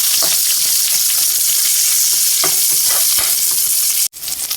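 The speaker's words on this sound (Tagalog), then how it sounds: "Mainit na po yung ating kawali. Ilalagay po natin yung ating bawang. Isusunod po natin sibuyas." Garlic and onion hit a hot pan for a Filipino small-fish dish, a loud, close, continuous frying sizzle with scattered stirring scrapes and a sharp knock near the end, no talk.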